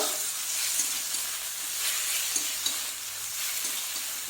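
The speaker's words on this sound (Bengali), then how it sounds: "আদা বাটা, রসুন বাটা দিয়ে ভালো করে এটাকে ভাজবো" Ginger and garlic paste frying in oil for doi katla fish curry, a steady close sizzle and hiss with occasional soft stirring scrapes, no talking.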